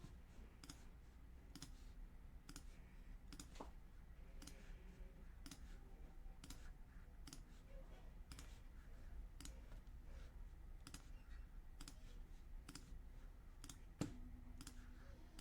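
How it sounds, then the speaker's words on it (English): Computer mouse clicks tap out a quick, fairly regular rhythm while someone designs a printable digital product, crisp and close but quiet, repeating steadily over a soft background hum with no talking. "So a lot of clicking here now."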